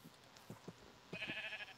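Sheep in the Minecraft video game bleat in a few short, soft calls, faint and close together over low background game noise.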